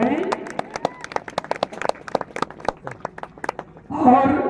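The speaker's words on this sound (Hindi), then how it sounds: "जोरदार ताली सभी लोग लगाएं।" Scattered applause from the audience at a Ram Katha gathering in Kadipur as the revered speaker is garlanded; irregular claps sound throughout, and a voice starts speaking over them near the end.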